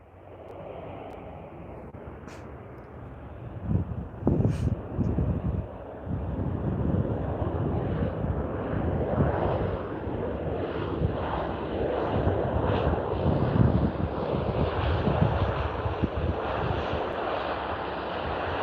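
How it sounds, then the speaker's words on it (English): A WestJet Q400 turboprop airliner comes in to land at Vancouver International Airport, its engine roar swelling from a distant rumble into a broad, loud, sustained drone with a noisy rushing texture over nearly twenty seconds. "Following that would be a WestJet Q400 flight WS3327 coming in from Kelowna"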